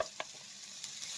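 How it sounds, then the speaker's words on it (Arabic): Onion fries in olive oil, a steady soft sizzle with a few faint clicks of stirring. "كنضيف عليه البصل وكنشحرو مزيان في الزيت حتى كيدبل ويتسرخى"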